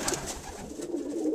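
Racing pigeons coo in a loft with straw on the floor, a steady low murmuring of several birds close by, soft overlapping calls throughout with no talking.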